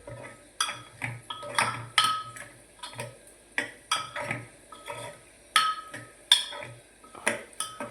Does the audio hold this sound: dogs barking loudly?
no